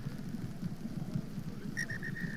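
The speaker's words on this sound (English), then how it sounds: "as the rain intensifies" Steady rain hisses down over an outdoor rugby sevens match in London, a faint, even wash of falling water, with a referee's whistle sounding briefly near the end.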